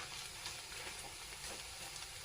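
Cauliflower gobhi 65 pieces frying in hot oil, a steady soft crackling sizzle throughout, fairly quiet and close with no voices.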